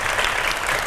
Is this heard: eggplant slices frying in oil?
no